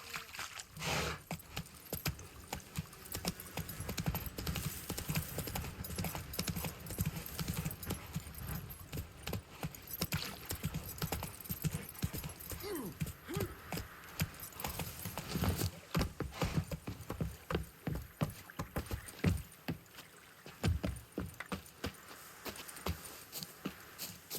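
Roach the horse's hooves in The Witcher 3 clip-clop steadily in a continuous walking rhythm, with jangling tack mixed in, moderately close and sustained the whole way through.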